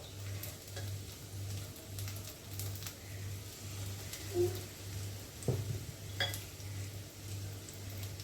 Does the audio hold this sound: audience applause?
no